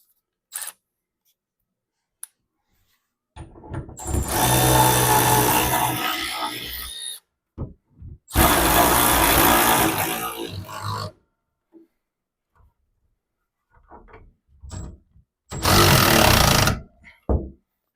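A power tool drives a lag bolt into a ceiling to hang a replacement electric space heater unit, in three loud sustained bursts separated by pauses, with a few faint clicks and knocks between them.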